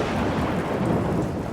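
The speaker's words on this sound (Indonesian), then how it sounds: "aku bisa mendengarkan suara hujan dan petir di luar rumah dengan jelas" Rain pouring outside a house at night with thunder rolling, a dense continuous wash of downpour and rumble, loud and steady throughout with no voices.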